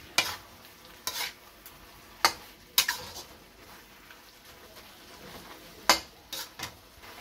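Beef stir-fried in a pan for a beef and broccoli dish, with a utensil clicking and scraping against the metal at irregular moments over a faint, low sizzle; quiet and close, no voices.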